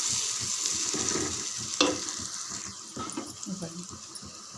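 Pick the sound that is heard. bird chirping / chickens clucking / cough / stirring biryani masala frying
stirring biryani masala frying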